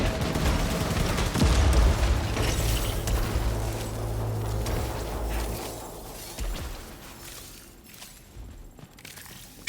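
Turrets in the video game Returnal fire a dense, continuous barrage of sci-fi gunfire and blasts that thins out toward the end.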